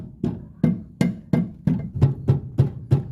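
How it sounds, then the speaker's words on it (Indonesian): A rubber mallet strikes car suspension parts, the stabilizer link and tie rod, in nine firm, evenly spaced thuds with short dull rings, close and loud with no talk over them. "Gunakan palu karet ini ya."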